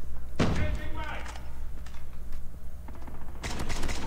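Buffed SKS rifle shots in COD Mobile, a few sharp, punchy reports with the loudest crack near the start and another cluster near the end, amid game ambience and a player talking.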